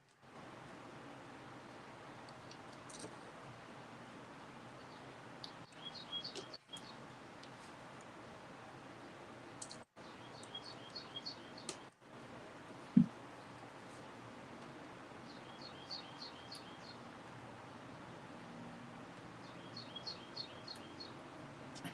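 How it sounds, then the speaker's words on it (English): A small bird outside a window gives short bursts of high, rapid chirps, faint and distant, in separate clusters over a quiet room tone with a few soft clicks. "I have a little bird out my window going"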